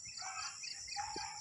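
A rooster crows in a long, clear call at moderate distance, with faint outdoor ambience around it.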